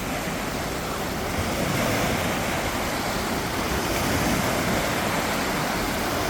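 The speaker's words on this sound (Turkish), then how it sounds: "Bildiğin dalgalı havuz." Waves in a wave pool in Sarajevo roll and crash in a loud, constant rushing wash, with no voices over it.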